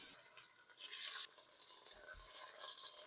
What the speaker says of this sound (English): And now we're just going to sear each one.